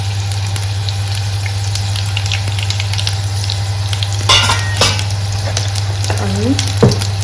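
Mustard seeds sizzle in hot oil, giving a steady close frying hiss over a low hum, with a few sharper crackles and scrapes toward the end.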